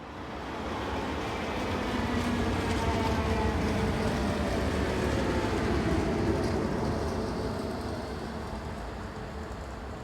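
A Swiss class 560 commuter train on the all-stations St Maurice service rumbles steadily and close for the full stretch, a broad continuous roll of wheels and motors swelling slightly mid-pass and easing toward the end.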